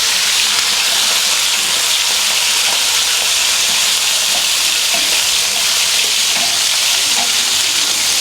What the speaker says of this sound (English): next stage is to brown off the rabbit